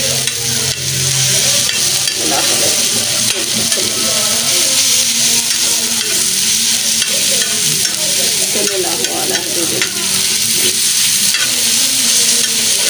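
Steady, dense sizzling of food frying on a hot griddle, with occasional stirring scrapes, continuous and close throughout.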